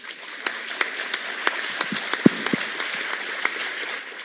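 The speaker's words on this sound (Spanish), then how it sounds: "un aplauso para ella, por favor" Scattered applause from a crowd at a national infrastructure congress, steady and moderately loud with a few sharper individual claps standing out.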